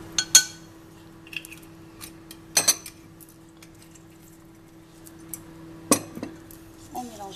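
Pear rum cake batter being stirred in a bowl, with sparse clinks and scrapes of a utensil against the bowl, quiet and close, separated by stretches of near-silence.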